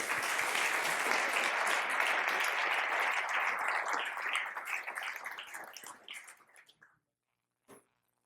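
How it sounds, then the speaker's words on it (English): Audience applause greets a speaker walking onto a conference stage, a full burst of clapping that thins out and fades to silence, followed by a single brief knock. "So Henry Poole, I'm very happy and very honored to welcome you on stage, and great applause"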